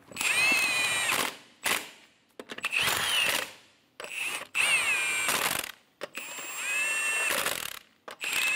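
A power tool tightens lug nuts on a 2007-2012 Nissan Altima in repeated loud whirring bursts of about a second each, split by short pauses, close up and with no talking.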